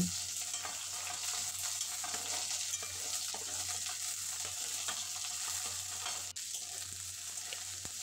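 Vegetables frying in a pan for sabudana polao give a steady, faint hiss of oil with occasional soft stirring taps, close by and uninterrupted by speech.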